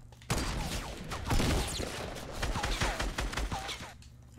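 Shotgun blasts and gunfire in Fortnite Battle Royale, a rapid series of sharp cracking shots over about four seconds amid busy game effects, fairly close and punchy.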